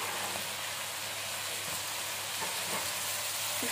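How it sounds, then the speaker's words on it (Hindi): Tomato frying with garlic and ginger in a pan for chicken pulao, a steady, fairly quiet sizzle with occasional soft stirring scrapes throughout. "लहसुन अदरक फ्राई करने के बाद हम डाल देंगे टमाटर।"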